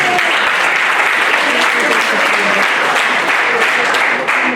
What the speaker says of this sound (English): Another round of applause again.